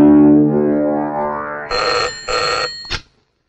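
A telephone bell rings in short bursts, a loud trilling ring repeated about three times after a low sustained tone fades, then stops abruptly.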